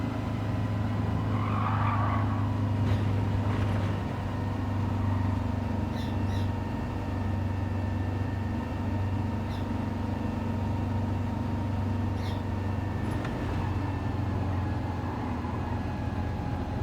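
A 1962 VW Sambabus Typ 2 drones steadily at around 67 mph on the Nürburgring Nordschleife in Gran Turismo 7, its air-cooled engine a constant low hum with faint tonal whines and occasional ticks.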